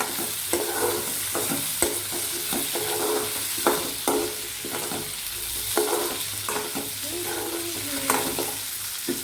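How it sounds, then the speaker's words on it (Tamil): Cut coconut sizzling as it sautés in hot oil for a bitter gourd curry, with a steady fry hiss broken by repeated scraping stirs of a spoon in the pan. "இது நான் கட் பண்ணியிருக்கனால நல்லா எண்ணெயில் வதங்க விடுறேன்"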